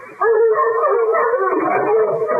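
A pack of dogs howls in a radio drama set on a river journey, a dense, loud, overlapping chorus of wailing voices that holds steady for over two seconds without talk.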